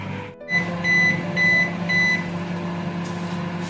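Microwave oven running while heating masala vada, a steady low hum with a few repeated beeps near the start, close and alone.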